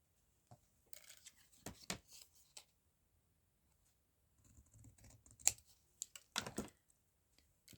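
Scissors snip and trim paper scraps for card embellishments, a few short crisp cuts in two quiet bursts with pauses between, close by and alone.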